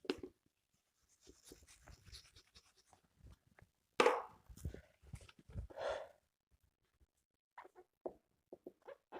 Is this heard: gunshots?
no